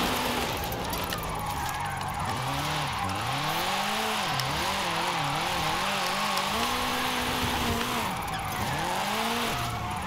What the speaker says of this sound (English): Oh, you can hear that turbo.